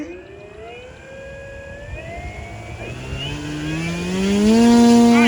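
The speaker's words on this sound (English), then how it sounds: "Are you ready for the full power run up?" A model PC-6 airplane with a VQ/Nexa engine runs up to full power close by, its engine note climbing steadily in pitch and loudness into a strong, high whine.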